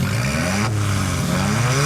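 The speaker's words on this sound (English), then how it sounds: "there is no mistaking it for anything other than a droning 4-cylinder engine" The four-cylinder engine of a 2016 Alfa Romeo 4C Spider with a racing exhaust drones and revs loudly and steadily, its pitch climbing in smooth sweeps.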